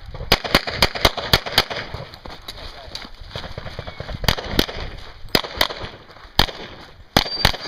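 Pistol shots fired at a shooting range match, sharp loud cracks in quick strings with short pauses between groups, ringing against an open outdoor backdrop.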